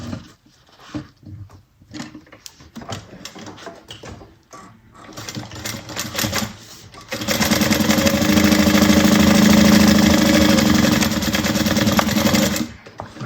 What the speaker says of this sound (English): And then we're going to just sew that at 1/4 inch.